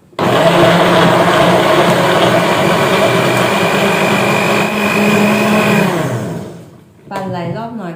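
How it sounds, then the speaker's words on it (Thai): An electric blender whirring at full speed as it purees turkey berries and Indian gooseberry with water, a loud steady motor drone that winds down near the end, followed briefly by a voice. "ปั่นหลายรอบหน่อยเพราะว่ามันมีไอ้มะขามป้อมมันจะแหลกยากนะคะ"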